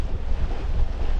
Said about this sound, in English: it's a headwind blowing out of the west